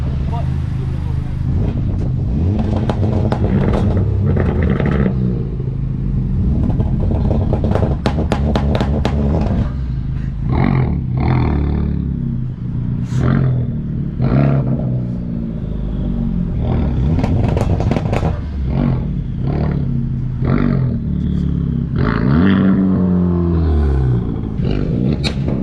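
Honda NSX engine at a Civic Type R takeover meet, revving hard with popping two-step anti-lag bursts, loud and continuous, with a crowd talking and shouting over it.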